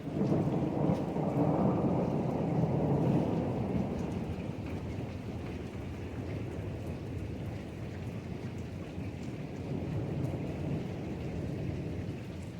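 Heavy rain pouring over a village pond in Punjab with thunder, a dense steady roar that is loudest in the opening seconds and then settles into continuous downpour, close and enveloping.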